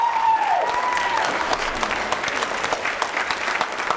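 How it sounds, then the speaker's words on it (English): An audience at a high school spring orchestra concert applauds warmly for a former staff member, a steady, moderately loud patter of many hands in a reverberant hall, continuing evenly throughout. "Round of applause for Luann"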